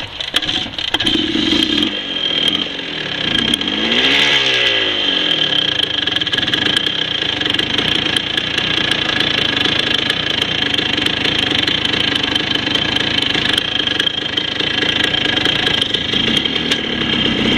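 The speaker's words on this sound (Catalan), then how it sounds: "Ara la moto, com que està molt calenta, no arranca bé." A hot motorcycle engine, hard to restart because of the heat, turns over and catches, then idles loudly and steadily close by with a buzzy, uneven rattle for the rest of the clip.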